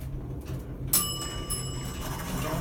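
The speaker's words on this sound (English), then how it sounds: "Nice bell." A Montgomery elevator bell from the 1980s in a professional building gives a single bright ring with a lingering metallic tone, heard close over quiet machinery hum.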